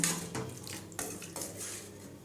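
A spoon scrapes and clinks against a metal pot in several uneven strokes, close and fairly quiet, with a faint wet stirring sound, stirring tamarind curry with water.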